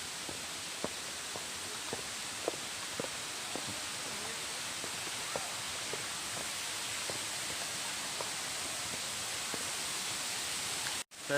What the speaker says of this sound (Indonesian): Saya sudah sampai di air terjun.